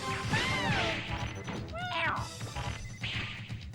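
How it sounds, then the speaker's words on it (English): A character falls in Mega Man Legends 2, giving out warbling, cat-like yowls with rising and falling cries, mixed with a crash and thuds from the game. "Sounds like a dying cat as he falls down."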